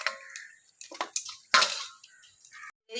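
Pointed gourds being rinsed by hand in a bowl of water, with short splashes, drips and wet squelches coming in irregular bursts, close and fairly quiet, with brief silent gaps between.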